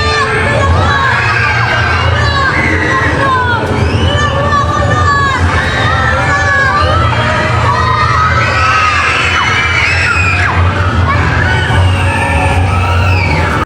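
A crowd of people, many of them children, screams and shouts continuously on a moving amusement ride during a school field trip, loud and close throughout.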